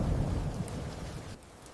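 Heavy rain pours down amid a deep, rolling rumble of thunder, loud and close at first and easing slightly toward the end, with no voices.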